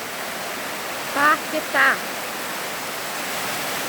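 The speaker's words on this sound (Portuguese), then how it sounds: "Olha que linda a nossa cachoeira" A waterfall at Cachoeira do Paquetá in the Bexiga area of Ilhabela, a long cascade dropping into a pool below, gives a steady broadband rush throughout, with a voice speaking briefly over it.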